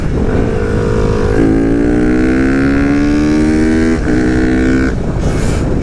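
A Honda Grom fitted with a swapped-in CBR engine revs hard and loud with no speech over it. Its rising harmonic whine climbs steadily, drops briefly at a shift, then climbs again before backing off.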